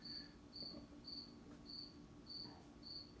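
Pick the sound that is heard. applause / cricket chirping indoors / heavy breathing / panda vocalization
cricket chirping indoors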